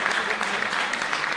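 Audience applause welcoming a swami at a celebration in Gurugram, a dense, steady wash of many hands clapping at close range for the whole short stretch, with no talk over it.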